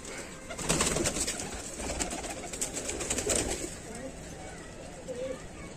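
Wild pigeons coo in low, soft repeated calls amid a busy outdoor background, with people talking at times over the birds.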